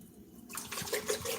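Spring water pours into a jug holding cucumber slices, a short close splashing gush that starts abruptly after a quiet moment.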